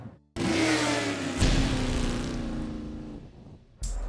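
A motorcycle engine revs up sharply and holds a loud, strained drone for a few seconds before cutting off abruptly; no voices.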